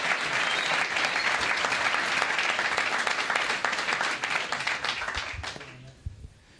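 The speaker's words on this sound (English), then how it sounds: "Can we have a huge round of applause for Governor Lee?" Loud, sustained applause from an audience at Bitcoin Park for Tennessee Governor Bill Lee, dense clapping that thins out and fades near the end.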